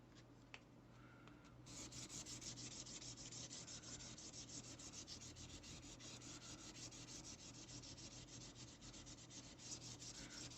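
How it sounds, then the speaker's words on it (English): Sandpaper rubs steadily over a plastic model kit part in quick back-and-forth strokes, a close, quiet scratching that runs on without pause and with no talking. "all you gotta do is sand a little bit, not too much, and then just swipe with your finger"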